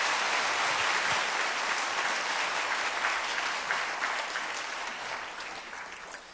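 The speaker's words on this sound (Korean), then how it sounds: "우리 한번 박수로 축복하겠습니다" A church congregation claps together in warm, dense applause during a Sunday worship service, a steady wash that slowly fades toward the end.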